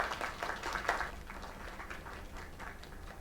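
Crowd applause in the game Lake, a steady patter of many hands clapping at moderate volume that stays even throughout with no voices over it.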